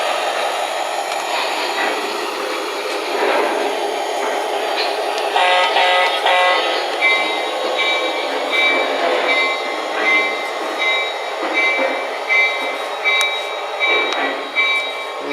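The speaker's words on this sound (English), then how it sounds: "see if we can't pull the consist in reverse and go hook up here." A Southern Pacific RS-3 model diesel locomotive with a sound decoder backs a consist along a layout track. Its engine drone and motor whine run steadily and close throughout, with no one talking.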